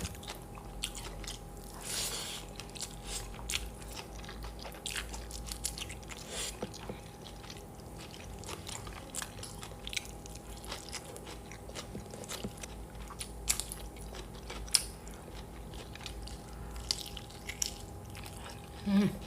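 Boiled pumpkin leaves dipped in sambal are eaten close up, with repeated soft wet chewing and crunching bites over a faint steady hum.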